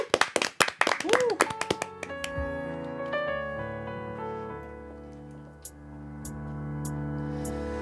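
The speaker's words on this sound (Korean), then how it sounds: "박수." A studio audience claps on a Korean radio variety show, in a short burst of sharp, uneven hand claps. The claps fade after a couple of seconds into a sustained musical intro with a melodic tone.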